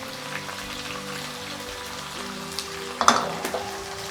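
Onions and green chillies frying in a pan after tempering: a soft continuous sizzle with a low hum in the background, then a few louder crackles and stirring clatters near the end.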